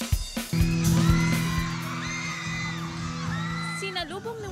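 Fans of Kapuso stars shout and whoop loudly at a mango festival fiesta in San Carlos City, Pangasinan. Yells rise above a steady crowd roar, and a sustained tone hums underneath.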